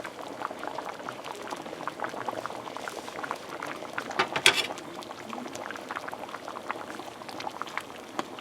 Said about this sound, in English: so let that come up to a boil.